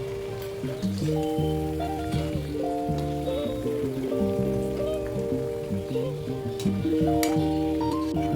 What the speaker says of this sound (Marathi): आपण आता टिक्कीला दुसऱ्या बाजूने परतून घेऊया मीडियम गॅसवर टिक्कीला क्रिस्पी होईपर्यंत तळून घ्यायचे आहेत